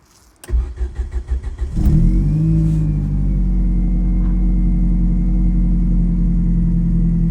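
A Ford Focus RS MK1 cranks over in a quick stuttering series, fires up with a loud rev, then settles into a steady, strong idle close by.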